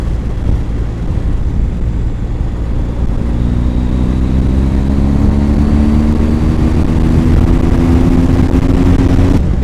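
A BMW R1250 GSA motorcycle cruising on an open road, with steady engine drone and heavy wind rush throughout, a rising engine tone emerging midway as it accelerates.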